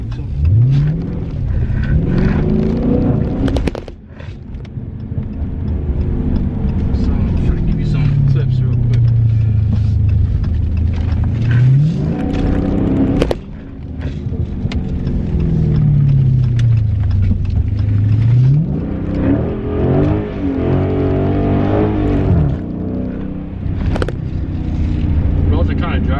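Dodge Challenger Scat Pack drifting on a damp morning, its engine revving hard in repeated rising and falling sweeps as the car slides, loud and close, with a voice talking over parts of it.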